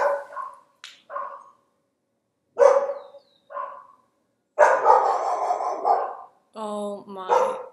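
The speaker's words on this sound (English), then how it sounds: "I'm just waiting for the dogs to stop barking." A pack of dogs barks in uneven bursts, several sharp barks and then a long, overlapping volley near the end, loud and close.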